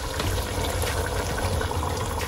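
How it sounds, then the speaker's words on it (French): Heated water pours steadily into a simmering turkey stew, a continuous soft gushing and bubbling that stays moderately quiet and unbroken throughout. "je vais incorporer l'eau que j'ai mis à chauffer pour ne pas arrêter la cuisson"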